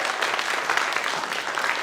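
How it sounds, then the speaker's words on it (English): A theatre audience at a Fringe festival show gives hearty applause to six volunteers onstage. The clapping is dense and sustained, steady throughout with no break. "give our 6 brave volunteers a huge round of applause"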